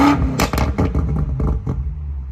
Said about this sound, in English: take a quick listen to an exhaust clip with the sound control in its loudest setting